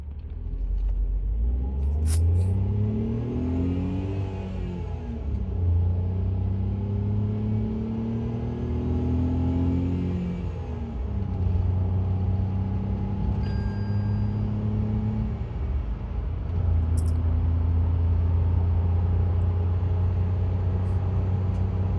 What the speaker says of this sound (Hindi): तो 0 to 100 करके देखते हैं। AC ऑफ कर दिया मैंने, गाड़ी CNG पे है, तो चलते हैं अभी।